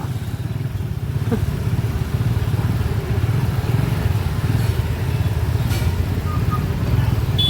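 A motorcycle engine idles steadily nearby, a low even chugging that runs throughout without revving, with faint background noise.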